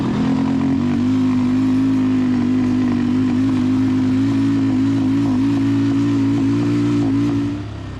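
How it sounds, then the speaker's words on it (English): A Yamaha 350 Warrior ATV that is running poorly is held at full throttle in first gear, making a loud, close, sustained engine drone at a steady pitch that eases off right at the end. "This is full throttle first gear."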